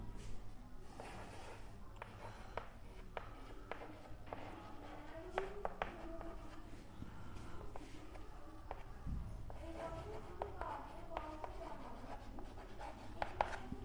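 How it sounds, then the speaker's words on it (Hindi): Pen writing by hand on paper or a board, a steady run of soft scratching strokes and taps at close range, fairly quiet, with no talk over it. "क्रमिक बट्टा इसका लिख देता हूं मैं।"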